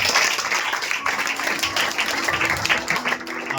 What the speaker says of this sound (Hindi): हमारे हाथों की तालियां रुकनी नहीं चाहिए